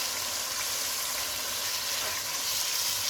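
Marinated chicken coated in ginger garlic paste fries over high heat, giving a steady, dense sizzle that holds evenly throughout with no voices.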